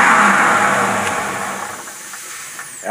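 A Pontiac V8 fitted with a tri-power intake and three carburetors winds down from a rev, its loud, hissy engine roar easing steadily over a few seconds before a small blip near the end.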